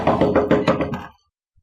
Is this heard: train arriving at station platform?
no